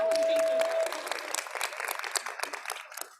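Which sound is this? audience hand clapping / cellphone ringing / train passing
audience hand clapping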